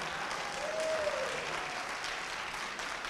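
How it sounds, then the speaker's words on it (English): Church congregation giving a round of applause, a steady wash of clapping at moderate level throughout, with a faint voice or tone rising briefly beneath it. "Let's give her a round of applause as well."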